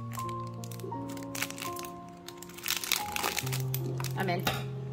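Scissors cut into plastic packaging on an acrylic mystery box, giving crinkling and crunching plastic under a steady background hum, while a person talks throughout.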